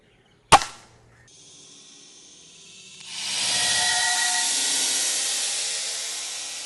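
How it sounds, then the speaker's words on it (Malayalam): One sharp, loud crack of an air rifle shot at a paint bottle, followed by quieter rustling and then a steady broad hiss that carries on to the end. "നമ്മളൊരു പെയിൻറ്റിൻ്റെ ബോട്ടിൽ വെച്ചിട്ടുണ്ട് നമ്മൾ അതിനിട്ടാണ് നമ്മൾ ഫയർ ചെയ്യാൻ വേണ്ടി പോകുന്നത്"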